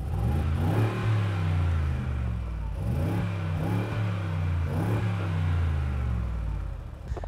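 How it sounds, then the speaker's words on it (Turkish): A Mercedes-Benz G63 AMG engine revs with its exhaust valves opened, giving a loud, deep rumble that rises and falls through three or four close blips in steady succession, with no talking. "Egzozların valfleri açılıyor. Daha fazla ses çıkıyor."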